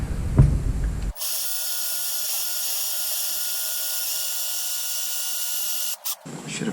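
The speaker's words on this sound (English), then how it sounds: "Time to drill and tap the hole for the keeper." A power drill whines steadily for several seconds while boring a hole in a steel vise part, starting and stopping abruptly, with no talking.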